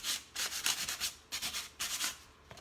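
Rhythmic hand sanding, a series of close scratchy rasping strokes in quick back-and-forth bursts with short pauses between.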